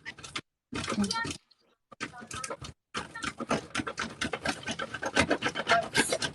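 Laundry is rubbed and scrubbed by hand in repeated rasping strokes, close and fairly loud, with short pauses between bursts and speech mixed in.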